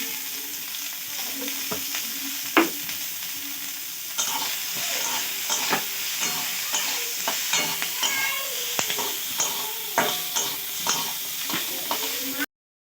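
Cabbage being stirred and fried in a pan, a continuous loud sizzle broken by repeated scraping and clattering strokes of a spatula in an irregular rhythm, close up with a brief sharp knock early on.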